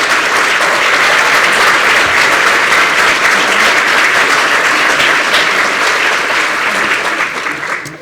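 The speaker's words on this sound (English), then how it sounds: "If our faculty and staff, if you don't mind just standing so we can applaud you as well." Sustained applause from an audience at Clark College's 2023 State of the College address, honoring faculty and staff; dense, steady clapping that fills the room and holds loud before tapering slightly at the end.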